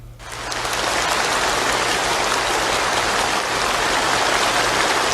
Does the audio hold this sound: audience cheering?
yes